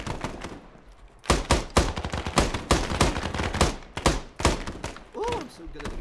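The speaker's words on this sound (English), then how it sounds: "Get some fire out." Rapid bursts of automatic gunfire from Arma 3 military combat gameplay, loud and close, with repeated sharp volleys over several seconds while voices talk over the action.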